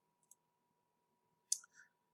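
A computer mouse clicks to close a window in point-of-sale software: a faint tick, then a sharper double click about a second later, alone in an otherwise quiet room with a faint hum.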